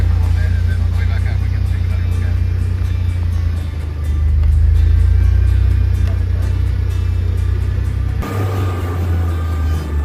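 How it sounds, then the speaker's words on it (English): Chevy S10 truck on 40-inch tires driving through snow, a loud low engine rumble with steady road noise throughout and a shift in tone near the end; a voice may be talking faintly underneath. "now it's time to go out for a little bit of an exploratory drive"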